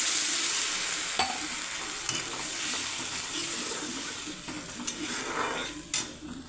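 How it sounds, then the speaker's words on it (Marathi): Water is poured into sautéed field beans (pavta) in a hot pan, giving a soft, steady hiss and sizzle with a few faint utensil taps, heard close and alone. "ह्याच्यामध्ये आपण गरजेनुसार पाणी ओतून घ्यायचं"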